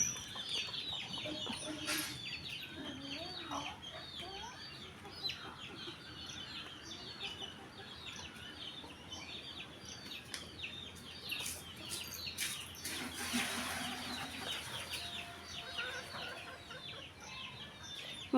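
Chickens cluck and chatter around a home, with repeated short calls from several birds scattered through the scene and a louder burst of activity midway, heard at moderate distance over light background noise.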